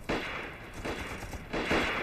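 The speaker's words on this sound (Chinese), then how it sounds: "边院子怎么有枪声啊？" Rapid bursts of gunfire in a war film set in a village courtyard, three loud, sharp volleys close together across two seconds, with no speech.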